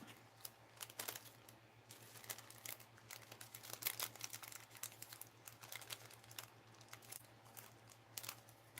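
Paper tag being cut out with scissors: faint, quick snips and paper rustles repeat irregularly over a low steady background hum.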